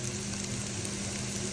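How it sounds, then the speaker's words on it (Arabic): Chicken breast goes into a hot pan with butter, mushrooms and onion, giving a steady, even sizzle of frying that holds at constant moderate loudness with no voices over it. "أضيف صدر الدجاج"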